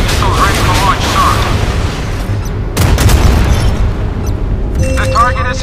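Missiles roar off a warship and slam into a target in the Modern Warships naval combat game, a dense continuous barrage of loud booms and blasts with a sharp impact near the middle, overlaid by voices.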